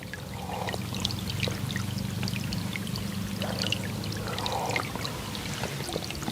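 Water flowing in a stream beside rice fields, heard as a steady, close pouring and trickling wash over a low rumble, continuous throughout with no talk.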